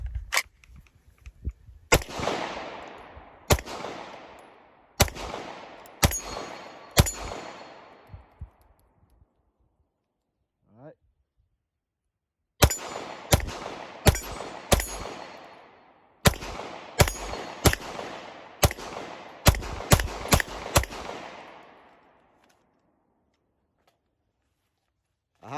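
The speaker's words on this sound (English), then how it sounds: "So all right, let's take a few more shots." A Glock pistol fitted with a Tyrant Designs trigger fires repeated sharp shots in quick strings. The shots come in separated bursts with brief echoes and pauses between groups.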